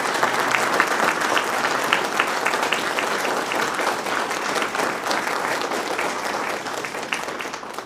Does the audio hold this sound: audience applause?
yes